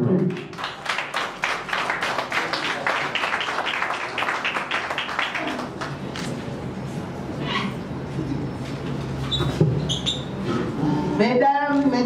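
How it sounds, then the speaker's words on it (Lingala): Guests applaud at a civil wedding ceremony in Kinshasa, with dense clapping for the first few seconds before it thins out into voices and murmuring crowd noise. "Sous vos applaudissements, s'il vous plaît."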